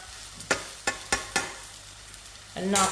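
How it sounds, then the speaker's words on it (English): Butternut bhajis sizzle in hot oil at home, with a few sharp crackling pops spaced apart and a louder burst of hissing near the end, steady frying noise beneath and no talk. "you know you've got it if you've got that sizzle"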